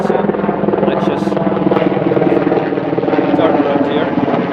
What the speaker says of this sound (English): a helicopter coming overhead